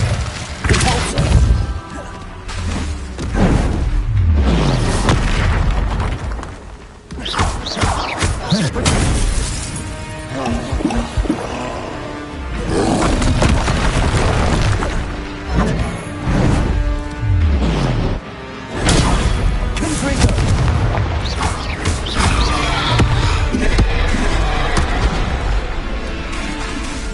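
Spell explosions in Hogwarts Legacy, fiery Incendio and Confringo blasts bursting again and again with crashing, smashing impacts and booms in a loud, near-constant barrage while a voice calls out incantations.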